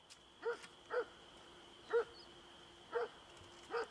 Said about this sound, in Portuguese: a mascote do grupo a ladrar.